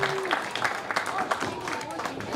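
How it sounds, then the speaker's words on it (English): Audience applause at a WFC Halloween show, a dense patter of clapping with a voice talking over it throughout. "So give you all a round of applause."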